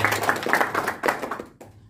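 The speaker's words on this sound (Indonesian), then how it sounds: "Tepuk tangan untuk kita semua." Audience members clap at a union officials' capacity training session held in a hotel, a brief burst of a few close, distinct hand claps that thins out and fades near the end.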